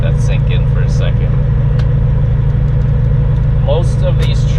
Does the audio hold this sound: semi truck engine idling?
yes